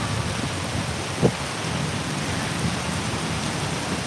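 Heavy rain pours down steadily just after a concert, a dense continuous wash of rainfall with one brief low thump partway through and no talking.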